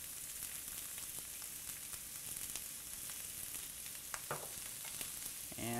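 Onions sautéing in a sauté pan, a steady close sizzle throughout with a few soft scrapes and taps of a utensil near the end.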